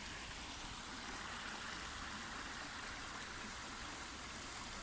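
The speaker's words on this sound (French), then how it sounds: "Cette eau, vous voyez, elle passe dans tous les petits cailloux." A small stream of water runs over pebbles outdoors, making a steady, soft broadband rush and trickle that stays even and continuous, faint and close, with no voices.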